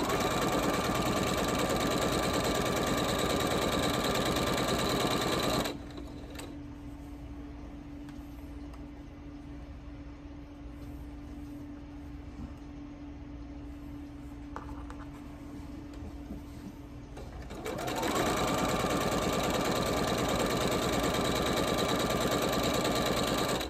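A sewing machine stitches the seams of holiday stockings, running in a loud steady whir. Midway through it drops to a quieter hum for about twelve seconds, then returns to full speed. No one talks.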